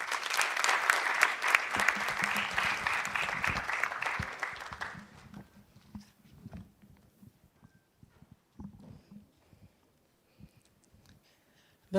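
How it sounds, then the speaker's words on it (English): An audience at the NSMQ 2025 national championship launch applauds to welcome the host, a dense burst of clapping that fades after about five seconds into scattered claps and shuffling. "Please, you have to keep clapping."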